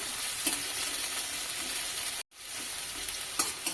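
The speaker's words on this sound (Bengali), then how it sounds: "তেল গরম হয়ে এসেছে, এখানে দিয়ে দেব একটা বড় সাইজের পেঁয়াজ কুচি করে রেখেছি, লম্বা লম্বা করে দিয়ে দিলাম। ব্রাউন করে একটু ভেজে নিচ্ছি।" Sliced onions, cut into long strips, frying in hot oil for ghugni, a steady close sizzle with faint scrapes of stirring and one brief dropout midway.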